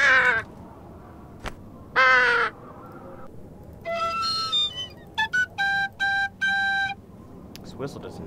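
Harsh crow caws in a Nancy Drew video game, with a short burst at the start, another around two seconds, then a run of rapid repeated caws, heard clearly against a quiet background.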